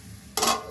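A lid set onto a cooking pot of methi (fenugreek leaf) pulao gives one sharp metallic clink, followed by a short ringing tail in an otherwise quiet kitchen.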